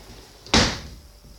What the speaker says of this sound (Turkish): Kapıyı da kapayım.